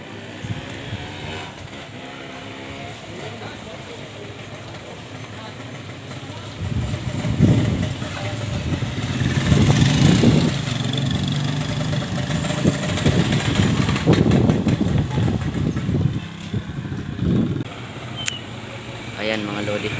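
Motorcycle engines rumble past on a road in San Pascual, Masbate, swelling and fading as several pass close by, with traffic noise continuing steadily throughout.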